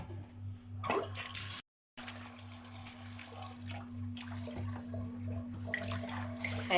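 Tap water runs into a sink over fresh, still-live sea fish being washed, a steady close splashing wash with a low mechanical hum underneath and a brief dropout early on.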